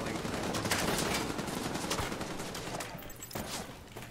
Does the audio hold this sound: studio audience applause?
no